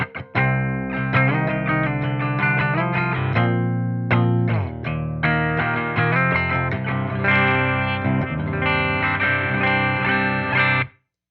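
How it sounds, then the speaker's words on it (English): Electric guitar played through an amp's clean channel with no pedal, chords and picked notes ringing out in bright phrases with short gaps, ending abruptly. "here's my standard clean tone with nothing going on"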